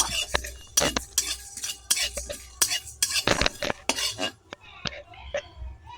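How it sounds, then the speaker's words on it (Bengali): Whole coriander seeds, cumin, a bay leaf, cardamom, cloves, a cinnamon piece and a dried chilli dry-roasting in a wok, stirred with a utensil that scrapes and clinks against the metal in quick, uneven strokes, close and fairly loud. "একটি কড়াতে 1 চামচ ধনে, হাফ চামচ জিরে, একটি তেজপাতা, 3টি এলাচ, 3টি লবঙ্গ, 1 টুকরো দারচিনি ও একটি শুকনো লঙ্কা নিয়ে ভালো করে নেড়ে ভেজে নেব।"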